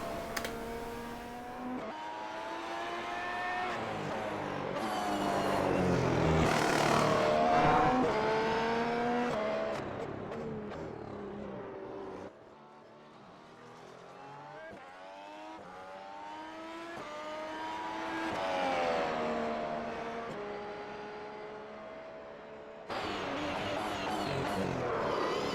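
The V6 engine of a 2015 McLaren Honda Formula 1 car in the iRacing sim screams through repeated upshifts and downshifts, rising and falling in pitch over about 25 seconds, steady and prominent with no talk.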